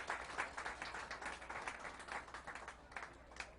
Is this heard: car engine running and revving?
no